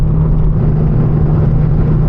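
A car rolls over a rough road, with a steady loud low rumble of engine and tires and no talking.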